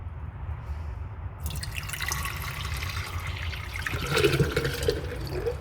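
Water pours into a measuring container in a steady, close splashing stream that swells louder toward the end as the vessel fills.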